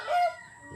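A rooster crows inside a chicken coop, one loud, strained call lasting under a second, close by and heard alone.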